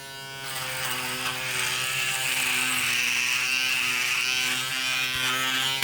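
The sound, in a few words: Panasonic ES-RM3B Arc 3 electric shaver shaving a face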